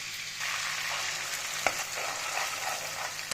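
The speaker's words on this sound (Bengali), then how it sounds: "এখন এই পেস্টটা দিয়ে দিচ্ছি, অনিয়ন পেস্ট।" Onion paste frying with whole cloves, bay leaf, cinnamon and cardamom, a steady sizzling hiss with soft stirring scrapes and a single clack near the middle.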